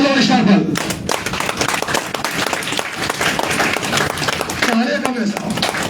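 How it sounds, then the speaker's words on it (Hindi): Applause rises at a Jodhpur seminar as two guests are welcomed onto the stage, a crowd clapping steadily and loudly for several seconds with a voice speaking at the start and end. "आप लोगों की जोरदार ताली के बीच में ऑल पल और स्टार पल को एक साथ इन्वाइट करना चाहूंगा।"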